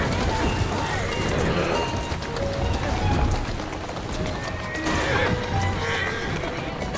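A galloping horse in Assassin's Creed Syndicate pounds along with running hoofbeats, whinnying through the run amid dense in-game ambience.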